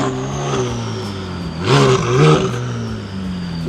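A turbocharged Nissan 350Z or 370Z Nismo engine idles with a steady hum, then blips through two quick revs close by before settling back to idle.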